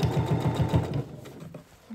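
A home sewing machine stitches a garment seam in a fast, steady mechanical whir of rhythmic needle pulses for about a second, then slows and stops, close and fairly loud.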